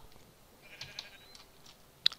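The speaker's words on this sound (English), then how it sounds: "First, I'm gonna show off his sheep." A sheep in the Minecraft video game bleats faintly in a short, thin cry, followed by a sharp click near the end, with no talking.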